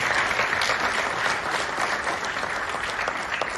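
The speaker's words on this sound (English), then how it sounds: "please join me in giving his team a round of applause" Audience at a talk with Kenya's 1990s cricket captain applauds a team, many hands clapping in a dense, even burst that carries on steadily for a few seconds.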